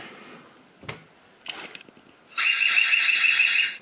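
An EZVIZ CB2 mini security camera alarm set to full volume sounds a loud, steady electronic siren tone close by, preceded by a few brief handling clicks and rustles.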